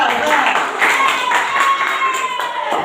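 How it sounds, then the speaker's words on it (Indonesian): Applause from a class audience for a presenting group, a dense patter of many hands clapping steadily for about three seconds, fairly close and even. "Tepuk tangan yang meriah untuk kelompok 2"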